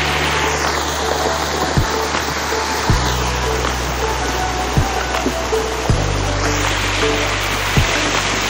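A river swollen after a dam release rushes past close by, a loud, steady roar of churning water with a few faint knocks and thuds scattered through it.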